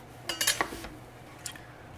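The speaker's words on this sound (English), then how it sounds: "I'm gonna cut up half of this onion into slivers" A knife slices half an onion into slivers on a cutting board: a quick run of four or five sharp, close chopping taps, then one more tap a moment later.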